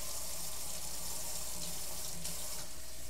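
A kitchen tap runs steadily while water is drawn for making chicken and vegetable pie, a close, even hissing stream that continues throughout without pause.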